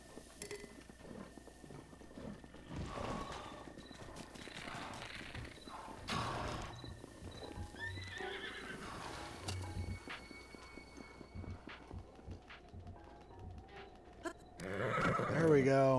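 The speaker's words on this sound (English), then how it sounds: "No, Horsey, come back here" A horse in the video game Zelda: Breath of the Wild neighs and its hooves clip-clop, with several whinnies and thuds over the stretch and a louder neigh near the end, under a person's talk.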